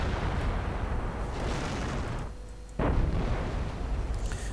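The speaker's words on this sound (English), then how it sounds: "More artillery firing" Artillery fires in a strategy video game as a continuous heavy rumble of booms and explosions, loud and dense, with a brief lull before another strong blast.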